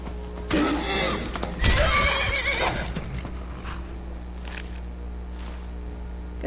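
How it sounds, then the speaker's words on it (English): A horse in Skyrim neighs loudly and whinnies over heavy hoofbeats as it chases a wolf, the galloping fading to quieter thuds amid game ambience. "And my horse is chasing the wolf."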